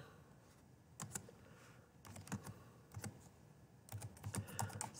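Fingers type in short bursts on a computer keyboard, quick clusters of close, quiet key clicks separated by brief pauses.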